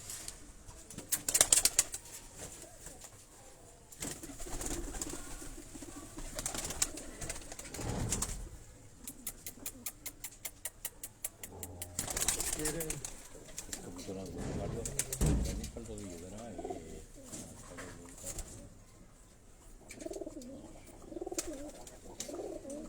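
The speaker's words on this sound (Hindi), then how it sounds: "डॉक्टर साहब के ये ब्रीडर परिंदे हैं, ये अभी आपको थोड़ा सा ये कबूतर दिखाएगा इंशाल्लाह" Breeder pigeons in a loft coo and flap their wings, giving a close mix of soft cooing, bursts of wing beats and clattering, with scattered background movement and people talking.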